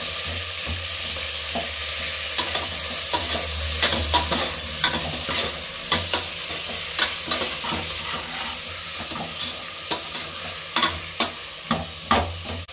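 Onions and tomato fry in a pan for a Rayalaseema greens-and-brinjal curry, with a steady sizzle broken by a rhythmic series of spatula scrapes and clinks that grow sharper toward the end, close by and with no talking.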